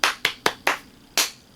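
Hands clap five times in quick, sharp succession, four evenly spaced and a fifth after a short pause, close and crisp with no voices.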